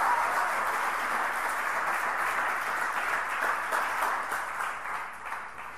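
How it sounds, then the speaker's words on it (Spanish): A church congregation applauds during a Spanish-language sermon, a steady dense wash of clapping that holds level for several seconds, then starts to thin slightly near the end. "Alguien más dé un aplauso al Señor, caramba."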